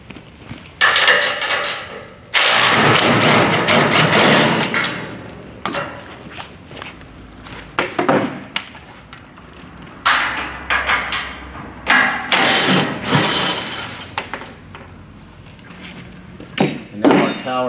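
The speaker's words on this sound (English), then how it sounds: "now we're going to go ahead and remove the 2 mounting bolts and nuts again with our 13mm socket and wrench" Crate mounting bolts and nuts being removed with a 13mm socket and wrench while unpacking a Revolution ST/PS tower, bursts of close metallic ratcheting and clanking separated by short pauses.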